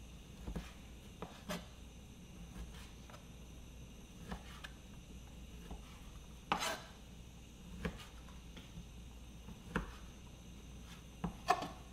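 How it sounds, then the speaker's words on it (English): Knife strokes cutting chorizo and other meats on a board for garbanzo bean soup, a dozen or so scattered, irregular chops heard fairly quietly against a low kitchen background with no talking. "while I'm cutting up my meats"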